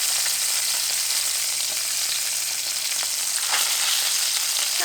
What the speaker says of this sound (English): we're putting our chicken down to brown. It's hot. Why you gotta sizzle like that?